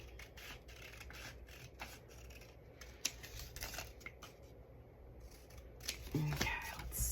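Scissors snip repeatedly through paper while pieces are cut for a handmade junk journal, quick crisp cuts in an uneven rhythm, close by, with a little handling rustle between snips.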